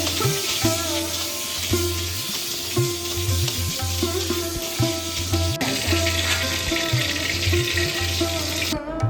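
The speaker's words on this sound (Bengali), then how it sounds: "এইভাবে একে একে বাকি পটলগুলো সুন্দরভাবে ভেজে তুলে নেব।" Slices of pointed gourd (potol) fry in hot oil, giving a steady close sizzle with faint clinks and stirring scrapes throughout, and no talk.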